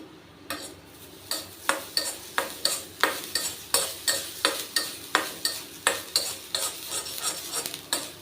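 Grated fresh coconut dry-roasts in a pan while a spoon or spatula scrapes and stirs it in a steady, regular rhythm of about two strokes per second, close and clear with no talk over it.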